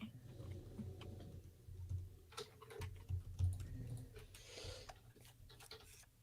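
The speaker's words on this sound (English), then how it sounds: "I hear you guys typing" People typing on computer keyboards during a comics trivia game: faint, irregular clicks and taps scattered under a low background hum, with no voices.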